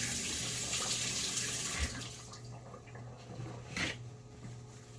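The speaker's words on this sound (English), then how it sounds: "Just wash my hands." Hands are washed under a running kitchen tap, a steady hiss of water with light splashing and rubbing. The flow eases partway through, and there is no talking.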